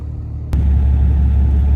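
A truck engine idling as it warms up on a 46-degree morning, a steady close, loud low rumble that kicks in abruptly after a short quiet start and holds evenly.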